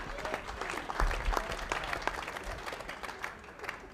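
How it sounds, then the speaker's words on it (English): At a men's bowling final in San Marino, the crowd applauds with steady clapping and scattered sharp claps, moderately distant and filling the hall throughout. "The crowd here is getting crazy."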